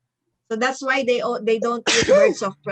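A single sharp sneeze bursts out near the end of a woman's speech, close and loud, with talking before and after it.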